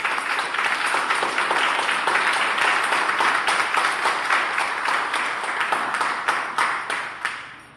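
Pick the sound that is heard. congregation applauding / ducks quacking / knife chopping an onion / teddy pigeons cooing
congregation applauding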